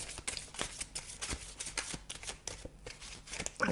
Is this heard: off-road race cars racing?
no